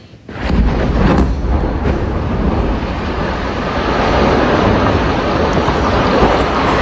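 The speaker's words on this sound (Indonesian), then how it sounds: "Ledakan terlihat di kota Kfar Hatta." A loud, deep rumbling roar from an air strike on the town of Kfar Hatta, Lebanon, rises sharply at the start and holds heavy and steady throughout, like the prolonged boom of a large explosion.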